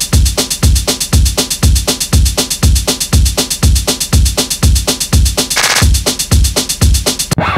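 Isla Instruments S2400 drum machine playing a pattern in 99/32 time: loud, dense repeating kick and hi-hat hits in a rapid, uneven cycle, with a short noisy burst near the end and no talking.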